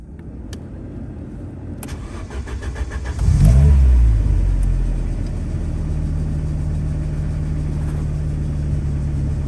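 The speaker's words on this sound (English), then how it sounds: "next up we've got a bit of starting and idling action" A 1986 Ford Sierra RS Cosworth engine cranks, catches and fires up with a burst of revs, then settles into a steady, loud, rumbling idle at just over 1,000 RPM.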